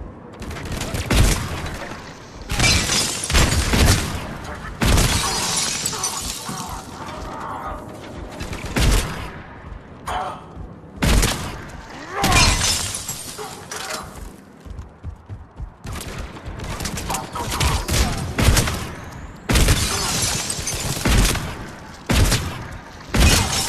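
Rapid bursts of gunfire from the Mass Effect 3 demo come in loud repeated volleys with short gaps and booming impacts, running through the whole stretch.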